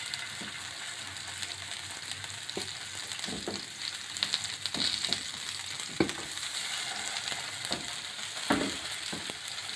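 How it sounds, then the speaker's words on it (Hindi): Fish shallow-frying in oil on a flat tawa, a continuous close sizzle and crackle with scattered sharp pops and scraping taps throughout. "फिश फ्राई हो रही है"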